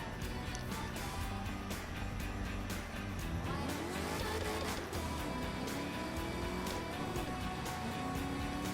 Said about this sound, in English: It's a pretty nice sounding car.